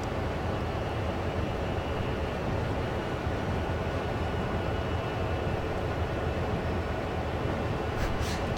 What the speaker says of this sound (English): Probably our train that I'm hearing.